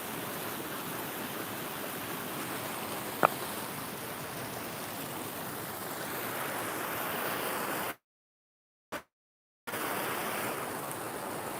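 Steady, broadband rush of a waterfall heard outdoors on a walk, constant and moderately loud, with a brief dropout of silence near the end.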